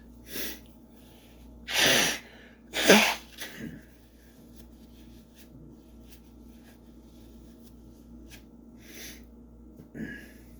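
Two sharp, loud sneeze-like bursts close together near the start, followed by quieter breathy sounds and a faint snort later on.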